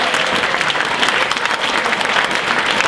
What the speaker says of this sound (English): how about another round of applause for all those wonderful speeches?